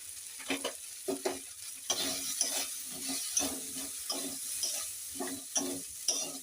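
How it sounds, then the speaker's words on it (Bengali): Maggi noodles being stirred with spices in a pan, a close series of scraping, clattering strokes in an uneven rhythm over a steady soft sizzle, with no talking. "ম্যাগিটা মশলার সঙ্গে ভালো করে একটু নাড়াচাড়া করে নেবো।"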